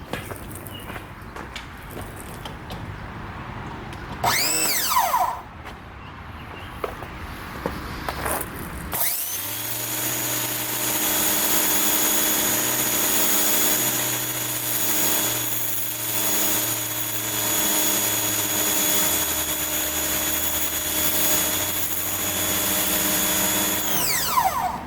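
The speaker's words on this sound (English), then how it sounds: "And I'll just plug the pressure washer back in. You can see how it works." A PowerPlay Spyder 2030psi pressure washer fitted with a turbo nozzle runs steadily and loudly after a few seconds of quieter handling noises, holding a sustained motor and pump hum with a shifting low drone.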